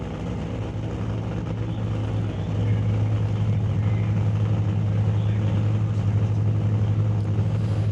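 A Walt Austin Racing Ford Hemi doorslammer drag race car at a drag strip: a steady, loud low engine drone runs throughout and grows a little stronger partway in, with no clear launch burst.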